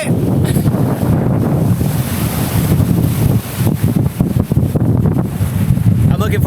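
Steady wind buffets the microphone aboard a sailboat running with its jib pressed full, while waves rush and wash around the hull in a continuous loud roar with no clear pauses.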